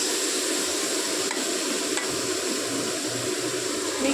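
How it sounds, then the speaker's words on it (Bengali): Steady sizzle of mixed vegetables, including cauliflower, carrot and capsicum, frying in a hot pan, with faint scraping and stirring underneath, close and continuous with no voices. "এখানে দেখো মিক্স ভেজ ভাজা হচ্ছে"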